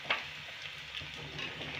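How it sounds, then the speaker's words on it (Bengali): Food fries in very hot oil with a dense, continuous sizzle and scattered crackles, a brief louder pop near the start, steady and close with no talking. "এই দেখুন কি সুন্দর ভাজা হয়ে যাচ্ছে"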